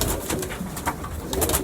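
Pet pigeons cooing in short repeated bursts, close and fairly loud, with no one speaking over them.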